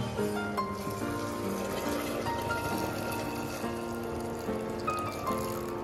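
Hot water being poured into a mutton curry cooking in a pot, a steady liquid pour with a continuous trickling wash throughout, fairly close and alone without talk.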